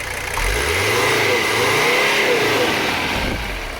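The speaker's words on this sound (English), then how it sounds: "the exhaust actually sounds really good with just one muffler" A Mercedes 300CD's brand-new engine revs up through a single-muffler exhaust, a deep throaty rumble rising and holding steady before easing back, loud and close.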